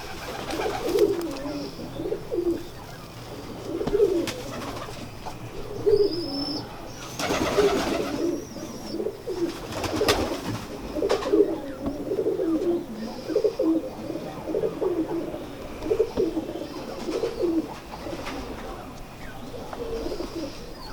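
Sialkoti pigeons coo in repeated soft, throaty phrases close by, a steady rhythm of rolling calls while people talk intermittently nearby and a few sharper chirps and knocks break in.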